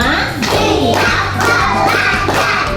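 Children in a classroom clap their hands in short rhythmic bursts, loud and close, with young voices mixed in among the claps.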